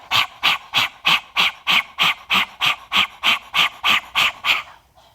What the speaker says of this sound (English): stick your tongue out, and do a panting breath of fire